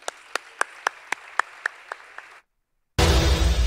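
About ten sharp, evenly spaced hand claps at a folk festival, close and fairly loud, that stop abruptly and give way after a brief silence to a burst of dense, unrelated sound.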